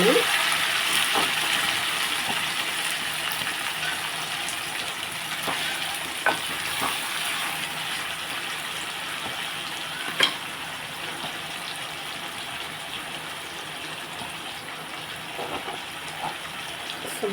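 Chicken frying in a pan, a steady broad sizzle with occasional small pops and clinks, moderately loud and continuous with no talk over it.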